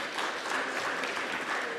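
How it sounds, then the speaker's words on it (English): Brief, fairly quiet round of applause from an audience at a SANTACO Gauteng and TETA taxi industry event, an even wash of many hands clapping throughout. "Let's give him a round of applause,"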